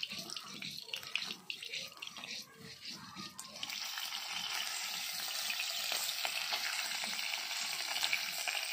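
Kouwal fish fries in a pan, starting with uneven crackling and handling noise, then settling into a loud, steady hiss of sizzling oil close by after the fish is turned.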